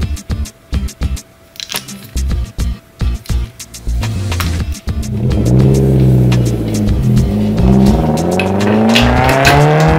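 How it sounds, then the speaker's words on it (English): Engine noise from a toy race car, a series of short buzzy bursts that give way to a steady, rising whine, loud and close with no talking. "Race car number 2."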